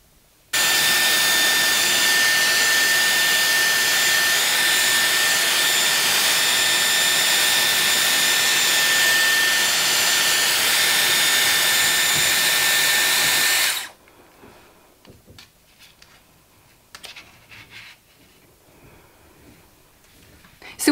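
A Dyson Airwrap hair styler blows a loud, steady rushing whir for about thirteen seconds while curling hair, then cuts off abruptly, leaving faint handling noises.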